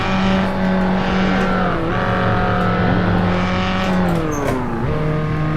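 A car driven in Assetto Corsa, its engine loud and close with steady revs that rise and drop through several gear shifts, and no talk over it.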